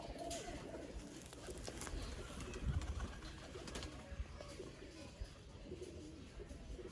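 Red-eyed breeder pigeons coo softly and intermittently at a distance, low murmuring calls rising and falling over faint background noise and occasional movement.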